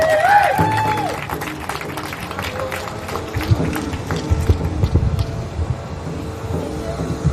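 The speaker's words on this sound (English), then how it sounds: "let's give a round of applause for Kathy." Audience applause at a public gathering in Minnesota, a dense steady patter of clapping that follows a brief voice and continues loudly for several seconds.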